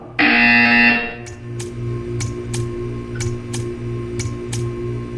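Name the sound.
buzzer sounding in a video game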